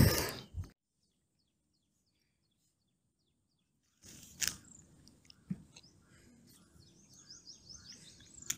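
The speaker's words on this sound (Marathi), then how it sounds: "भरपूर पक्षी ओरडत आहेत, चिव चिव चिव चिव करत आहेत." Many birds chirp and call over a rustling outdoor background on a fort trek, with quick high tweets scattered throughout after a brief loud noise and a silent gap.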